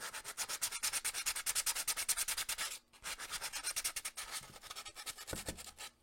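Sandpaper rubs back and forth by hand in quick, regular strokes, a close, fairly quiet rasping rhythm with a brief pause partway through, no talking.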